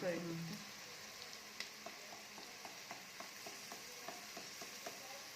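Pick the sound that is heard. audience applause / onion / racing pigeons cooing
onion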